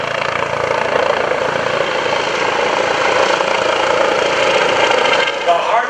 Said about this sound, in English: He is going to demonstrate the fine art of helicopter flying